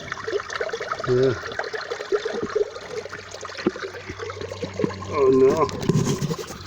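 Water gurgles and trickles as it floods into an underwater camera housing among stones in a stream; voices exclaim briefly over the sloshing.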